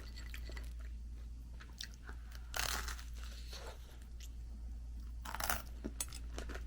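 Crunchy ukoy, a Filipino fritter eaten with spicy garlic vinegar, chewed close to the mic. Crisp crunching bursts come in a few louder bites over a steady low hum, with no talk.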